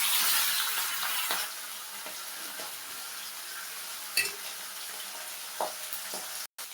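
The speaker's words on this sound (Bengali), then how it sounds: "দুটো মাছ ভাজা হয়ে গেছে" Katla fish frying in a pan, a soft continuous sizzle at moderate distance with a few brief clinks of utensils, no voices.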